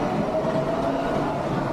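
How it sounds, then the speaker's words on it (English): A train passing through a building in Chongqing, a steady loud rumble of rail cars with a faint tonal hum throughout. "This is the place where the train get into building."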